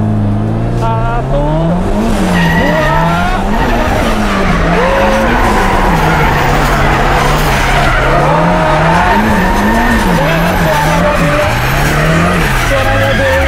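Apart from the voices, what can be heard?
Daihatsu Charmant car drifting with tire squeal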